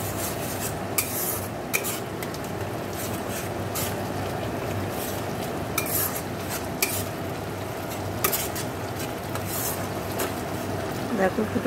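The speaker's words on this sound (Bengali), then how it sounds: "দেখো মশলা দিয়ে দিলে আবার ভালো করে কষে নেব।" Spices are stirred and fried in a pan during home cooking, a near continuous scraping and rubbing with frequent sharp clinks of the utensil against the pan.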